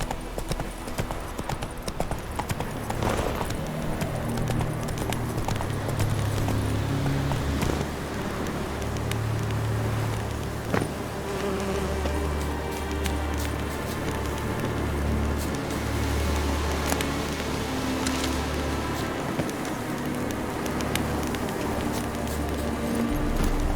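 Roach, a horse in The Witcher 3, gallops steadily with continuous rhythmic hoofbeats throughout, close and fairly loud over ambient background noise.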